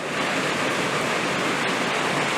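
Rain falling in Chiang Rai, heard as a steady, dense broadband hiss that stays even and unbroken throughout, with no voices over it.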